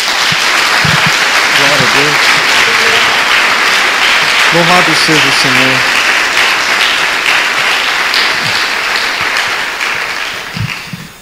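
A church congregation gives a sustained round of applause that fills the room from start to finish, with voices calling out praise over it before the clapping fades near the end.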